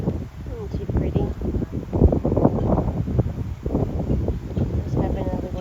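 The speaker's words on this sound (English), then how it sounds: "Pretty windy." Outdoor wind gusting and buffeting a microphone beside a wood pallet, rough rumbling bursts rising and falling throughout, loud and close.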